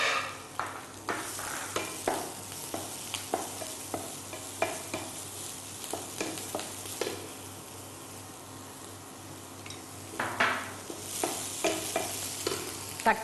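Mustard seeds, urad dal, curry leaves, green chili and finely chopped onion temper in hot oil, a soft continuous sizzle punctuated by frequent scraping stirs and light crackles, without speech.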